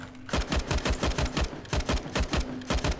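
Rapid automatic gunfire in the video game CS:GO, shooting through a wall, comes in two tight bursts of evenly spaced loud shots with a short break between them.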